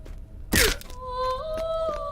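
A Lord of the Rings Online character lets out one short, pained groan after taking fall damage, loud and close, with a single burst of effort followed by a fainter, wavering tonal moan.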